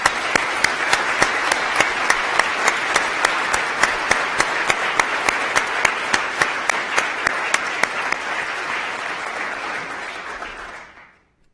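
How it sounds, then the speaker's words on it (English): An audience gives a final round of applause for pro bono award honorees at a Florida ceremony, steady dense clapping holding loud for about ten seconds before quickly tapering off to silence. "let's have one final round of applause for today's honorees"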